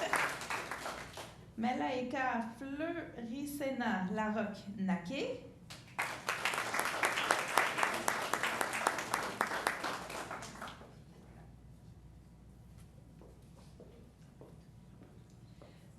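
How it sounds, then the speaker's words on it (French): Audience at a council meeting bursting into applause after a name is read out, a few seconds of dense clapping following speech, then fading to quiet room tone. "On peut l'applaudir, ben oui, tout de même"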